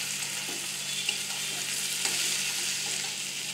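Onions for onion posto fry in hot oil with a dense, steady sizzle and crackle, close and even throughout, with no talking.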